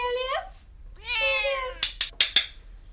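A rescue cat, a Siamese, gives two drawn-out meows close by, then a few short sharp sounds follow in quick succession.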